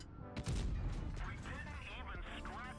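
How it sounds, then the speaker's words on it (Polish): A sharp video game gunshot cracks once near the start, followed by echoing rumble while someone talks over it. "Tutaj trzeci strzał"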